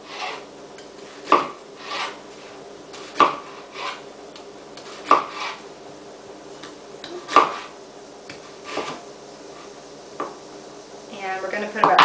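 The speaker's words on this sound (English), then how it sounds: "This is just a Spanish yellow onion. It's a nice, robust flavor. So we're just going to cut everything into strips." A knife slices a Spanish yellow onion into strips on a board, giving about seven evenly spaced dull thuds with soft rasping strokes between them, close and moderately loud against steady kitchen background.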